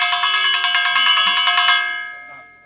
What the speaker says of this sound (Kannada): ಇದು ಒಂದು ತಟ್ಟೆ ಶಬ್ದ ಈ ಥರ